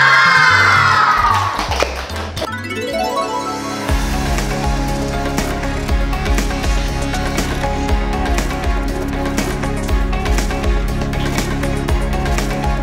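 Schoolchildren cheer and shout together at the end of a classroom math game, a brief bright burst of young voices that fades after about two seconds as steady music takes over.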